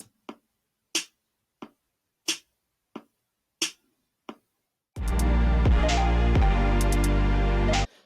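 An electronic drum kit in a browser music lab plays a sparse, evenly spaced pattern of short dry hits, then a dense full music loop with steady beat and melody takes over, loud and alone.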